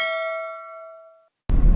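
A single bright notification bell chime for a subscribe bell icon rings out clearly and fades away over about a second. A brief silence follows, then a sudden loud, noisy burst.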